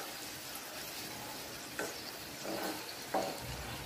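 Karanji, stuffed fried pastries, sizzle in overheated oil for Diwali, giving a steady close hiss with a few brief louder pops and bubbling bursts.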